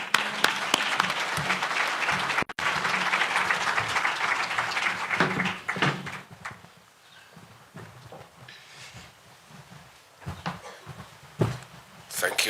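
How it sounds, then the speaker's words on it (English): An audience at a Nairobi stakeholder meeting claps steadily for several seconds, a dense wash of applause that fades out, followed by quieter room noise and a voice speaking. "Please give a round of applause."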